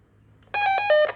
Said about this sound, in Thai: นี่คือเสียงท้ายคีย์